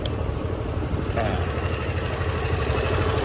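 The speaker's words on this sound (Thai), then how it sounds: "เครื่องยนต์เดินสมูทนิ่งเงียบ" A black 2018 Honda Forza 300cc scooter idles with a steady, smooth low engine drone held close and even throughout, and a faint voice can be heard in the background.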